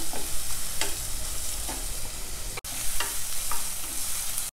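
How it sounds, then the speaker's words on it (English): Onions stirred with ginger garlic paste in a pan, giving a steady sizzle broken by repeated scraping strokes of a spatula, close and moderately loud, with no voices. "Stir fry till the onions are translucent."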